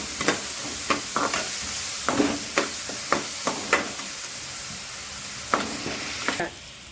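A mango pulihora tempering fries in a pan, with steady sizzling and a series of sharp, irregular stirring scrapes and clinks close by.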